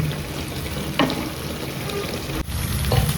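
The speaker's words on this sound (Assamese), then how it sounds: "কেৰাহীটো ঢাকি দিম, তো সেনেকৈ ফ্ৰাই কৰি থাকিম আৰু" Banana flower frying in oil in a covered wok on a gas stove, a steady soft sizzle and crackle with a couple of brief clinks, no voices.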